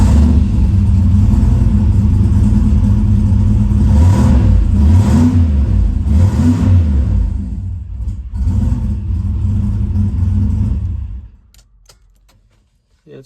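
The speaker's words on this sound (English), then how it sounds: "I will actually fire the truck back up." Pickup truck engine rumbling and revving in several rising bursts up close, loud and steady, then dropping to a quieter idle before cutting off into near silence.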